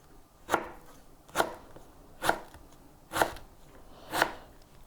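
A knife slices thinly through mango on a board for mango in brine, with five crisp, evenly spaced chops about a second apart, heard close and alone.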